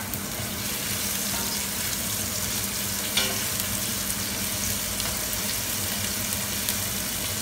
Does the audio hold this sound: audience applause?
no